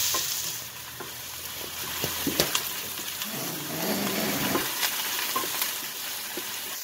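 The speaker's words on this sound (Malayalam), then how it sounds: "നന്നായിട്ടൊന്ന് വഴറ്റി എടുക്കാം." Chopped onions sauté in an oily pan for cabbage leaf thoran, giving a close, soft sizzle broken by scraping stirring strokes and light utensil taps, with no voices.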